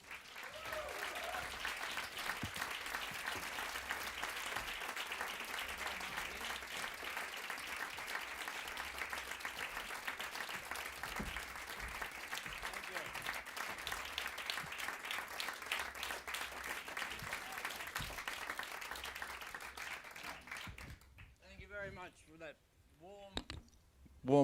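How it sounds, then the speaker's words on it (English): Steady applause from an audience welcoming a guest onto a stage, sustained for about twenty seconds at moderate distance before tapering off into a few scattered claps. "give him a warm applause, Warren Ellis."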